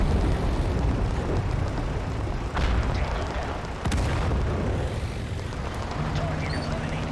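Tank shells slam into an armored vehicle in the war game Total Conflict: Resistance, a dense rumbling din with a couple of sharp blasts cutting through. A voice talks over the close, loud battle noise.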